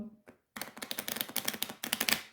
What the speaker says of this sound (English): Do a little bit of a riffle shuffle with these.